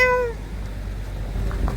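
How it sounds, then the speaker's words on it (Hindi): A cat standing near a snake at the Bhima Kali temple in Sarahan gives one short, clear meow at the very start, followed by quiet outdoor ambience. "और बिल्ली खड़ी है सांप के पास।"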